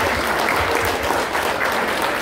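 Dense, steady applause from an audience, a continuous wash of many hands clapping at even loudness throughout, with no voices standing out.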